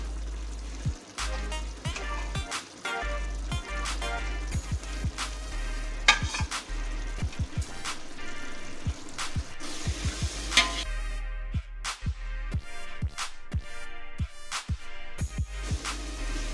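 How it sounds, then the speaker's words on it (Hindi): Masala with fried onions roasting in a pan for chicken biryani, a continuous loud sizzle and frying hiss close up, broken by scraping stirs and clatters of a spoon against the pot. "ये मसाला हमारा भुन रहा है।"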